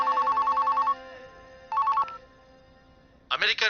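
Telephone bell ringing in rapid trilling bursts, two rings separated by pauses, clear and close, followed by a person starting to speak.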